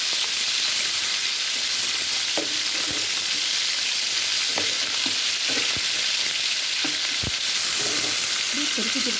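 Fish frying in a pan with a continuous loud sizzle and hiss, broken by occasional light taps and clinks of a utensil.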